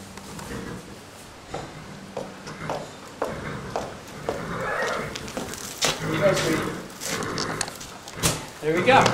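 Horses in their stalls at a barn whinny and neigh several times, mixed with shuffling hooves, knocks against stall boards and other barn noise, growing busier and louder toward the end while someone talks.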